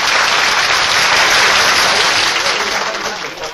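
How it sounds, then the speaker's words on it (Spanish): A crowd applauds a speaker in a loud, dense burst of clapping that holds steady for a few seconds, then eases slightly toward the end. "¡Aplaudir al orador"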